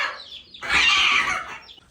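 Village hens and chicks cluck in a short, close burst of squawking cluck that swells and fades, set against quiet background noise.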